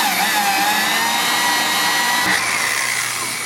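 A power drill bores out a steel frame rivet on a 1954 Chevrolet, with a sustained close whine and a rising tonal squeal that drops slightly near the end, no voices.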